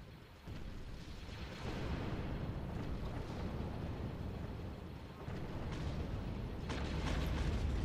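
Weapons fire and explosions pound a ship during a space battle, a dense, steady rumble of booms and bursts with sharper impacts near the end, no voices.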